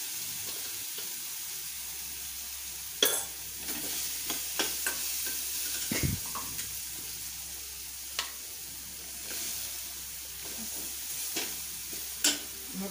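Masala with turmeric being sautéed in a pan for matar paratha, a faint steady sizzle broken by several sharp spatula scrapes and taps against the pan.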